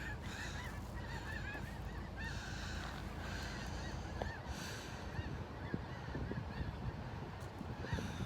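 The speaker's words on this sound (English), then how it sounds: "Sounds a lot like Sandhills cranes that arrive in Nebraska in March." Honking calls of sandhill cranes flying overhead in a V formation, repeating against a steady outdoor wind or traffic noise, moderately loud and continuous throughout.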